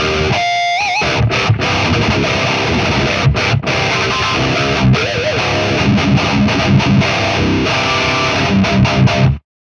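Heavily distorted electric guitar played through an Orange Rocker Mark 1 amp plugin, dense chugging riffs with brief stops, loud and alone, cutting off abruptly at the end.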